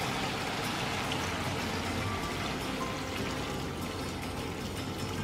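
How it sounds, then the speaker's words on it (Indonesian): Water poured gradually into a pot of vegetable curry for Medan-style sayur lontong, a continuous close splashing and trickling that holds steady throughout with no voices. "Jadi saya tuang airnya bertahap ya teman-teman."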